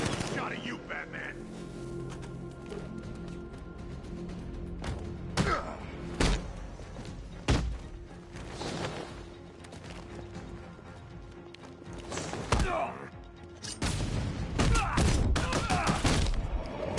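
Gunfire aimed at Batman in a Batman video game: scattered sharp shots and thuds burst out at intervals, with heavier clusters near the end, over a steady game ambience with voices talking.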